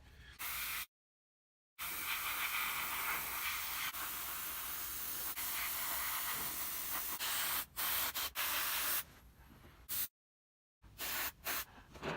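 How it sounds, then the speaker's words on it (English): An airbrush sprays black paint onto a carved wooden gun, producing a continuous close hiss in long bursts broken by short pauses and a few quick stop-start puffs near the end. "I've got some black paint ready and my airbrush. I'm gonna paint that gun black."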